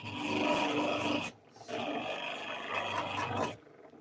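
A woodcarving gouge is rubbed against a sharpening surface to remove the burr from the inside of its edge, making continuous close rasping strokes in two bursts separated by a short pause.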